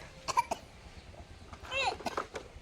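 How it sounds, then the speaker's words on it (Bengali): A child coughs in a few short, sharp bursts, with small voices and light indoor background around them. "তোমার কাশি হচ্ছে কেন?"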